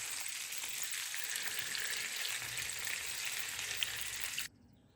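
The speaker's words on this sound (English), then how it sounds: "You can hear the sizzle, and you don't really need to do much." Chicken thighs fry in a pan with a steady, bright sizzle that holds evenly for several seconds, close and continuous, then cuts off abruptly near the end.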